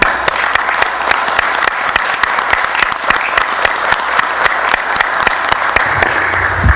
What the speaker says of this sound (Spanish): quiero pedirle a todos los compañeros del comité un aplauso